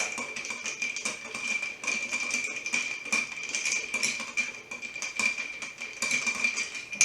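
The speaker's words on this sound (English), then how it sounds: "take your bar spoon. You want to give it a good stir." A bar spoon stirs a Manhattan cocktail over ice in a large glass, making a continuous close rattle of ice cubes clinking against the glass. It keeps an even rhythm for several seconds with no talk.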